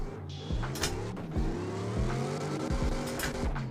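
A drift car in the racing game CarX Drift Racing Online 2 drones steadily with repeated rising and falling engine revs as gears shift, alone without voices.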